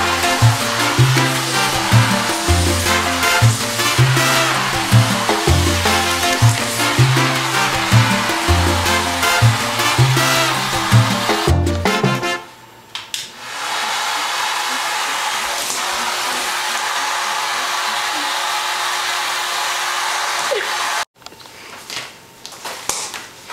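Two vacuum cleaners run at once with a loud, close roar that pulses unevenly at first, then settles into a steadier single-machine hum before a brief cutoff and restart near the end.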